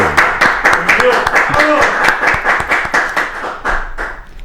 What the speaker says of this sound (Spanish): Fuerte los aplausos para Guillermo Saracho.